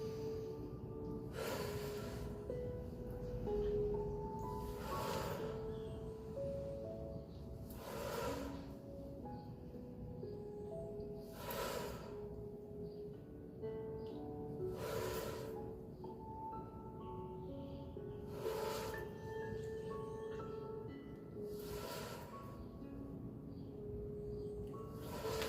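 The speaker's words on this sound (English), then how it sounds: "Inhaling on the up movement, exhaling on the down movement" Steady rhythmic breathing during a movement exercise flow, a breathy inhale or exhale every few seconds over a constant droning musical background, moderately soft.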